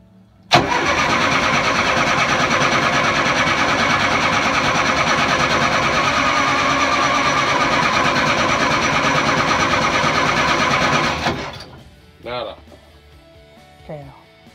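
Engine on the boat Northern Light cranking and catching, then running loud and steady for about ten seconds before cutting off. Brief voices follow in the quiet afterward.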